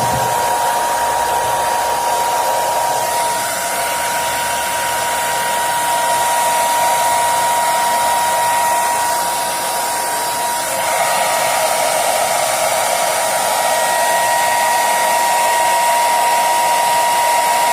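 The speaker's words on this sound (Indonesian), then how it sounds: "Kalau ibu mengeringkannya memakai hair dryer" A hair dryer blows steadily on a container for drying, a loud, even whir with a constant high hum, close and uninterrupted, with only a brief dip in the middle.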